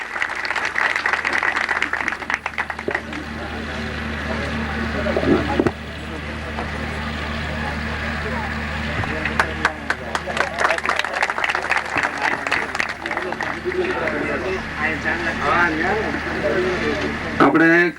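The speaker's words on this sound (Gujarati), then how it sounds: "તો આપણે તાળીઓના ગગડાટથી સંતને વધાવીએ." An audience at a Kamdhenu Gaushala gathering in Sultanpur claps continuously and densely to welcome a saint. The crowd applause is sustained and fairly loud, with murmured voices mixed in.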